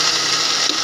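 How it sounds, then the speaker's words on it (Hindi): A kitchen blender whirs steadily while blending raw mango, tomato and mint chutney, a loud, continuous bright motor-and-blade roar with no pauses and no talk. "सारा कुछ ब्लेंडर के अंदर डाल के इसको हम ब्लेंड करेंगे।"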